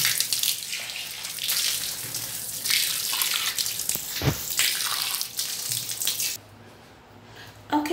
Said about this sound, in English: So you use it to wash the leg.